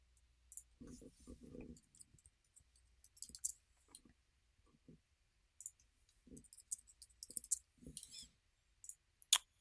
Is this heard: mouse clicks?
yes